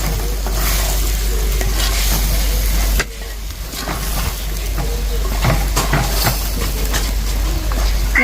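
Cauliflower and green peas masala curry sizzling loudly in a pan while being stirred, a steady frying hiss with scraping strokes and a brief dip in intensity partway through.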